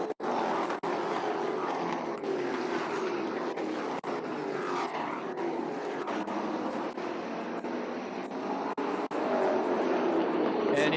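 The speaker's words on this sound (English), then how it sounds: "you can hear the thunder for those Chevrolet motors underneath the hoods of these speed trucks" Racing speed trucks at El Cajon Speedway with Chevrolet 350 Vortec engines roar continuously at a distance, a steady droning engine rumble across the field with no talk over it.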